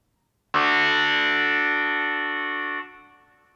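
Several notes of a digital instrument app sound at once as one sustained chord after the temperament is retuned, starting abruptly, holding steady and clear, then fading out over about three seconds with no talking.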